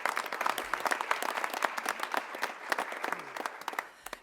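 A crowd applauds a speaker at a Louisville civic event for Light Up Louisville, a brief burst of clapping from many hands at moderate volume that fades toward the end.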